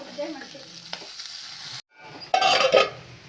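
Mustard seeds and green chillies sizzle and crackle in hot ghee while being stirred in a pan for a Havyaka-style dish, a steady frying hiss with a brief pause before a louder burst of spattering.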